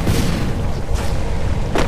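A bomb goes off in the battle-royale game Free Fire, producing a loud, dense booming rumble that lasts nearly two seconds. Brief bursts of noise sit on top of the rumble.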